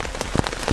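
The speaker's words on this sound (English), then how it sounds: "So that rain that I thought wasn't coming this afternoon," Steady rain patters on a tent during a bushwalk camp on the Cooloola Great Walk, dense close drumming with soft individual drops, no voices.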